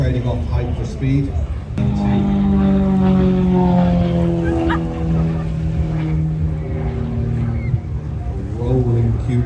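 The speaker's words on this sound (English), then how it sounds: "Powered by a Lycoming engine." A propeller aircraft with a Lycoming engine drones overhead during an air show display, its pitch gliding downward as it passes, with a commentator talking over the steady roar.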